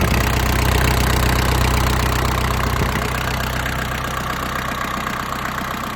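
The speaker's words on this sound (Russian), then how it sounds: "Трактор работает тихо, спокойно." A Kubota Saturn X-20 Japanese mini tractor engine idles close by, a steady, dense low chugging drone that holds evenly throughout with no speech.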